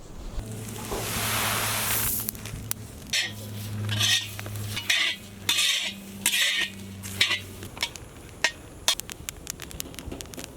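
Onions and coconut powder roasting in a pan for Malvani crab curry, with steady sizzling and repeated scraping and clinking of a spoon stirring against the pan, close and moderately loud, with no talking.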